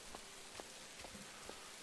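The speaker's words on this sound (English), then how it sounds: "The rain's here." Steady, gentle rainfall in the survival game Rising World, heard alone as a soft continuous hiss with a few faint drop taps and no talking.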